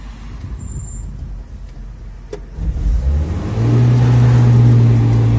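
Suzuki Jimny (Samurai) 4x4 engine, quiet idle that rises into a loud, steady drone as the vehicle gets moving and crawls uphill, close by with no talk.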